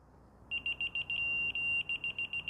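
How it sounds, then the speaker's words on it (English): Rapid high-pitched electronic beeping from a laser level on a building site checking concrete depth, short repeated pulses with a brief sustained tone, over a low background rumble. "sorry about the beeping"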